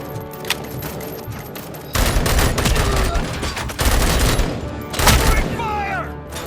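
Gunfire in the game RoboCop: Rogue City, heavy bursts of automatic fire and booming shots in several loud waves, with voices calling out between them.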